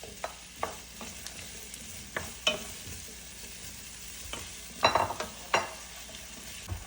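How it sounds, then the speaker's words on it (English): Potatoes and green chilies sautéing with onions, garlic and ginger in a pan for an Indian-style vegan okra stew, with a soft continuous sizzle broken by scattered stirring scrapes and clinks. "Now I'm going to add the potatoes and the green chilies."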